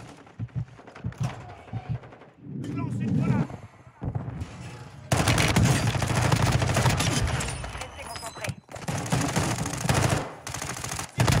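Shotguns and other weapons fire in a video game in dense, rapid bursts and sustained volleys, loud and close, while players talk over the shooting.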